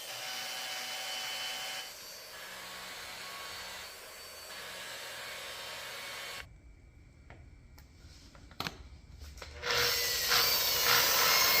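A machine polishes car paint with a finishing pad during repair-paint work on a black car, giving a steady whirring drone. It cuts out midway, leaving quieter scraping and clicks, then returns loud and bright.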